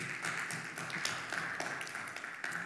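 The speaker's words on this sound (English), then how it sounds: "Can you give Leo a round of applause?" A church congregation claps for a fill-in preacher, a steady patter of many hands at moderate distance lasting a few seconds.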